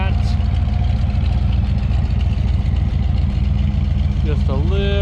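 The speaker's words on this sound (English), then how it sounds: "Got a little bit of an exhaust leak underneath the front there and a little bit of a tick now." A Chevelle engine idles steadily with an exhaust leak under the front and a slight tick, a loud continuous low rumble with a faint sharper rising sound near the end.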